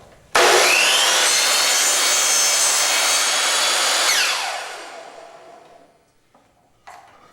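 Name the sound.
miter saw making a straight cut through baseboard trim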